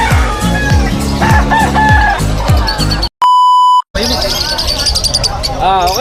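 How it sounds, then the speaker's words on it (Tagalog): Chickens at a pet market in Hulong Duhat, Malabon, with roosters crowing and hens clucking close by, broken midway by a short steady electronic beep tone before the birdcalls resume. "Ito mga bebenta ng manok."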